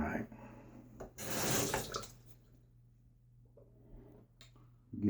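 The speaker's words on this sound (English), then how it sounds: "Get the razor wet." Tap water running briefly to wet a Gillette Aristocrat safety razor at a sink, a loud hiss lasting about a second, with a steady low hum underneath and faint handling clicks afterward.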